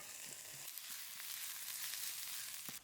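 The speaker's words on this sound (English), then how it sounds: "Now we will let this saute for a while." Onions, green chili, ginger and garlic saute in ghee with a faint, steady sizzle that has a few crackles in it. It is heard alone and quiet.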